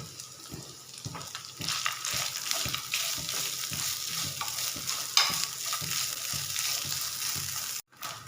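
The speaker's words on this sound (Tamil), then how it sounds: "தேங்காய் நல்லா கலர் மாதிரி வந்துருச்சு பாருங்கள் இந்த அளவுக்கு நல்லா வணக்கி எடுத்துருங்க தேங்காயை" Grated coconut, cashews and fennel sauté in a hot pan for a chicken gravy, with a soft steady sizzle under regular scraping stirs of a spoon, close and moderately quiet.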